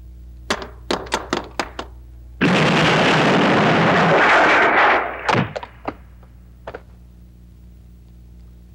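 An Ultimax machine gun fires in a Filipino action film: a string of sharp separate shots, then a dense sustained burst of automatic fire lasting a couple of seconds, followed by scattered single reports fading out.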